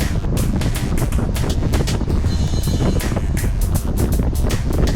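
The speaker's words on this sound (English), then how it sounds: "that wind just keeps getting stiffer and stiffer" Strong, gusty wind roars into the microphone while cycling on a winter base training ride, a loud, constant buffeting rumble with repeated brief flutters.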